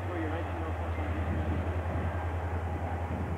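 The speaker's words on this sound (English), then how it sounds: "It was a damn train." A train rumbles past near a railway track with a deep steady roar, while a voice talks over it.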